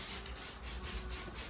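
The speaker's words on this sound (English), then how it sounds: "And spray some palm in it." Cooking oil spray hissing into a metal pan set out for pork ribs, in a few quick pulsed bursts, close and fairly loud, with no talking.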